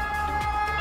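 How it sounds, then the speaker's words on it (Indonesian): A European ambulance siren on a Milan street, a loud, sustained wailing tone with steady pitch bands over faint traffic, close by and continuous. "Gede banget suara ambulansnya"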